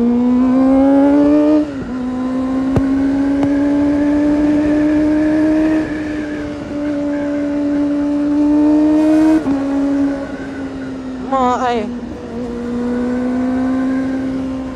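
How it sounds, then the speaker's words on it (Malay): A Kawasaki ZX25R motorcycle's high-revving four-cylinder engine screams close by in a long, loud, sustained howl, its pitch rising and falling through several gear changes, heard alone. "Kau tengok ZX tu bunyi ribut daripada yang 1000cc."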